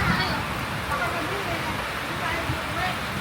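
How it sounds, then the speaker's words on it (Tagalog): Heavy rain falls outdoors as a constant dense hiss and patter on surfaces, moderately loud and unbroken, with voices talking over it. "Lakas ng ulan."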